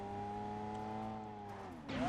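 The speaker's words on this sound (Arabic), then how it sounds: "عربية جاية عربية جاية عربية" A car in a video game drones toward the listener with a steady engine tone that bends in pitch near the end as it nears, loud and close, with no talking.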